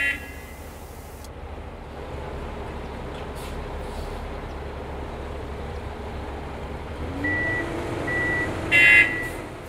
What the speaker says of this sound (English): The truck backs up some more